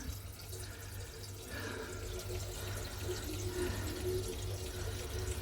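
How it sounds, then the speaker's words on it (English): Strawberry wheat beer full of fruit mush pours steadily into a CO2-flushed mini keg, a continuous close splashing and gurgling stream that grows slightly fuller partway through, with no talking. "a strawberry wheat full of mush going into a recently CO2 flushed mini keg"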